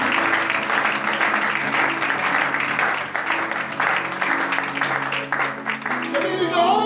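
Sustained applause fills a church congregation, steady dense clapping with voices mixed in, loud and close throughout a Sunday service gathering.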